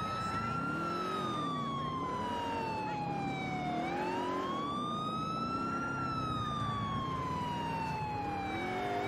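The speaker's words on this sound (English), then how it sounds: "I'm gonna turn off the sirens because they're stressing me out." Police sirens wail steadily in GTA IV, their rising and falling tones sweeping continuously and loudly for the full stretch, layered over a low rumble of traffic and engines with no talk.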